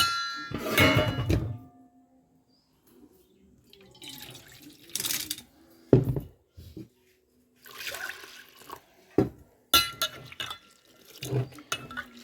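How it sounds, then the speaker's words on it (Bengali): Sago pearls being rubbed and washed by hand in water inside a metal cooking pot, with intermittent splashing, swishing and pouring bursts separated by quiet pauses, close and fairly soft. "যতক্ষণ না মোটামুটি পরিষ্কার জলটা বার হবে ততক্ষণ সাবুটা একটু রোগড়ে ধুয়ে নিতে হবে।"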